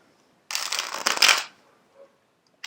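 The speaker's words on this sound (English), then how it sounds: "Been shuffling a bunch off the camera as I do." A deck of cards riffled close up for about a second, a dense papery burst ending in a quick flutter, then quiet with a faint tap.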